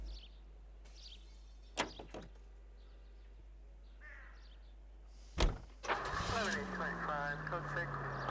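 A car door shuts, then an engine starts and idles steadily in the video game L.A. Noire, with faint ambient birds and brief voices earlier.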